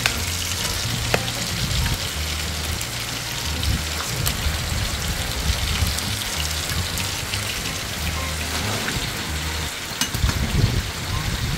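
Steady hiss of rain falling blends with frying and sizzling in a home kitchen, a constant broadband wash lasting throughout, with low murmuring voices and occasional utensil clinks underneath.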